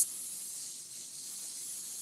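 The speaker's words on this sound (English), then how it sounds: "after you spray that oil on there" Cooking oil sprays onto breaded chicken in a faint, continuous hiss that starts abruptly, dips briefly midway and carries on steadily, with no talking over it.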